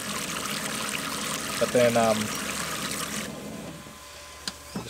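Water running from a Companion Aqua Cube Logic battery-powered portable camping shower gives a steady close spray that stops partway through, followed by quieter background and a few clicks, with brief speech over it.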